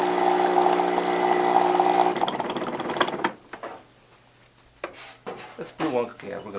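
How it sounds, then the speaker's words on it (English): A Gaggia for Illy espresso machine pumping water through its boiler, giving a loud, steady vibrating pump buzz for about three seconds that then cuts off, followed by quieter clicks and gurgles. "it pumps water through the boiler,"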